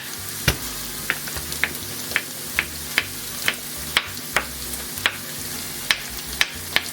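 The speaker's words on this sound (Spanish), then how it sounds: "Ahora revolvemos." Chickpea stew sizzles steadily in a frying pan while a spoon scrapes and taps the pan at a regular pace, about two strokes a second, close and clear with no talking.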